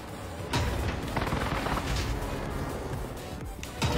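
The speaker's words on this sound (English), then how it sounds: "I'm just dropping an airstrike on it." Video game airstrike on a rooftop: a steady barrage of blasts and rapid gunfire-like bursts, loud and dense throughout, with sharp impacts near the start and end and no talk over it.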